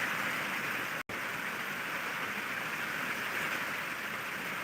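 Heavy rain pouring steadily in Chhatrapati Sambhajinagar, a dense unbroken hiss of falling water with a very brief dropout near the start, otherwise continuous and even.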